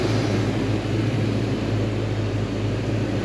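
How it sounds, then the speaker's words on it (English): An AC compressor runs in a 1993 Ford Mustang 5.0 that is low on Freon, heard as a steady loud mechanical drone with a low tonal hum throughout and no talking. "I hear the AC compressor cycling, so definitely low on Freon."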